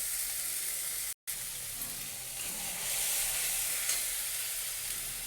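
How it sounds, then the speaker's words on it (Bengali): A paste of ginger, garlic, onion and chili sizzles in a frying pan of mushroom curry with a steady, fairly close crackling hiss. The sizzle holds throughout, broken only by a brief silent dropout early on. "তারপরে আমি দিয়ে দিচ্ছি সেই মশলাটা আদা রসুন পেঁয়াজ লঙ্কা একসঙ্গে পেস্ট করেছিলাম সেই মশলাটা"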